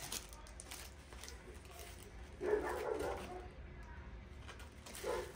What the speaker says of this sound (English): That's my mom's dog barking.